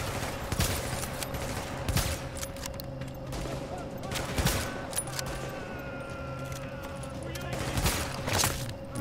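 Gunfire in Tom Clancy's The Division during a co-op campaign, with a sniper shooting: scattered sharp shots and short volleys over a steady in-game hum, with voices faintly present underneath.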